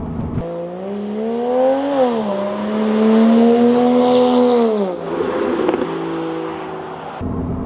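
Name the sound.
Porsche Cayman sports car driving on road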